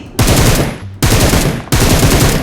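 Automatic rifle fire in the mobile game PUBG Mobile, three sustained rapid bursts in quick succession, loud and close with a brief gap between each.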